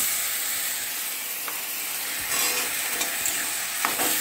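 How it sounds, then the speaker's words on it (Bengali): Spice paste hits a hot pan for a vegetarian jackfruit curry, giving a steady broadband sizzle throughout with a few soft stirring scrapes near the end. "এরপর আমি মশলা পেস্টটা দিয়ে দিচ্ছি"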